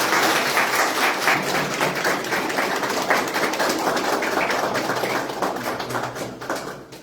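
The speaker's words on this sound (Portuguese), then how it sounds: "Pode bater palmas." Clapping from a crowd at a twentieth anniversary celebration for a spiritual group, many hands in a fairly loud, irregular patter that slowly thins and softens toward the end.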